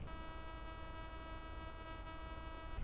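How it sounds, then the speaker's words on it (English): A metal detector set to its threshold gives a faint, steady electronic hum with a thin high buzzing edge, unbroken and alone for the whole stretch. "We want that threshold set just where we can hear a slight hum."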